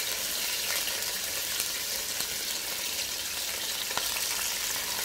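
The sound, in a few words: second batch of chicken frying in oil for biryani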